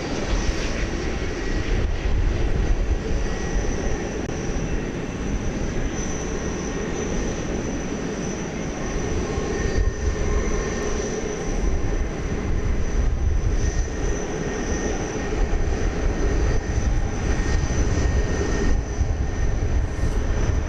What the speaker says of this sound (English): This, in case you were wondering, is a 18-year-old A300.